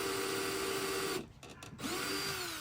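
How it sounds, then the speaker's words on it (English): A power drill bores out a stuck screw in a dresser handle, a high whining spin that cuts out briefly with a few short clicks, then spins back up and keeps whirring. "So I decided to grab my drill and see if I can drill that screw out."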